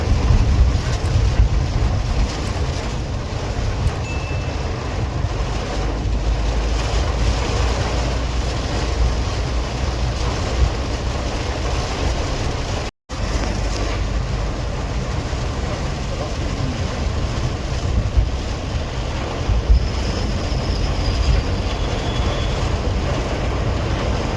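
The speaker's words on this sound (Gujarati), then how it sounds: "ફૂલ ધોધમાર વરસાદ અહીંયા પણ ચાલુ છે" Heavy monsoon rain drums hard and steadily on a car roof, making a dense, continuous roar with a brief cut partway through.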